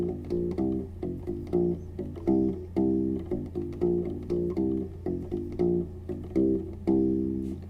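Electric U-Bass plays a repeated blues scale pattern, clear plucked low notes in a steady rhythmic groove with short pauses between phrases, alone with no talking.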